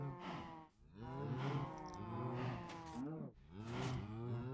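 Cows in the Minecraft video game moo repeatedly in long, overlapping, low drawn-out calls, several in a row with brief gaps, loud and with no talk over them.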